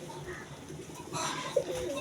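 Pigeons being fed grain make soft cooing calls against a steady background hum, with a brief louder note near the end.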